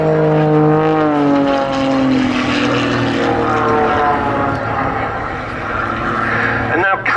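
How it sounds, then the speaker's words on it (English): A propeller aeroplane flies an aerobatic display at the RAF Cosford Air Show, its loud engine drone climbing and falling in pitch as it rolls and passes, with a commentator speaking over it. "Has an amazing rate of roll,"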